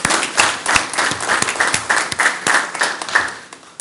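Audience at a city council meeting breaking into applause: dense, loud clapping throughout, close and continuous, with a faint murmur of voices underneath.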